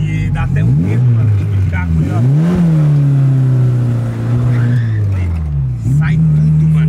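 A Chevrolet Chevette engine revs hard and rises and falls in pitch while the car drifts on a street, loud and close with tire noise, while people talk excitedly over it.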